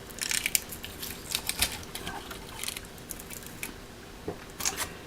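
Sticky tape is peeled off the internal wires of a 2008 24-inch iMac. Close, irregular crackling rips and ticks come in bursts with brief pauses.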